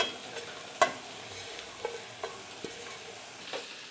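A spoon stirs tender jackfruit frying in a pan, with a few sharp scraping knocks over a soft, faint sizzle and no talking.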